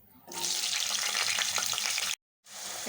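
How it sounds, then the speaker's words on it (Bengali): Potatoes and bean seeds fry in a pan with a loud, steady sizzle up close, broken by a brief silence near the end before the hissing resumes. "এখন আমি এগুলিও ভেজে নিব।"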